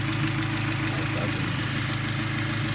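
A 1990 Acura Integra engine idling with a fast-idle fault, a steady loud rumbling drone with constant vibration throughout, close and unbroken, no voices.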